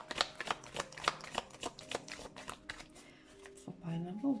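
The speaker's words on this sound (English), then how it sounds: "then from there we're gonna start shuffling for pile number one" A deck of tarot cards is shuffled in quick repeated riffles and soft flicks, close and faint, followed by a short stretch of talk.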